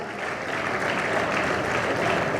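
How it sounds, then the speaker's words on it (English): Steady, dense applause from a crowd at a Hare Krishna temple event, continuous and fairly loud throughout with no pauses. "Let us give a big round of applause."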